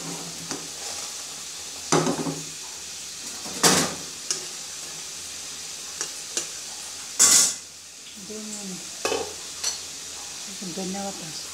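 Cumin seeds hit hot oil in a pan while tengra fish cooks, giving brief sizzling bursts mixed with spatula scrapes and clinks as the pan is stirred at close range.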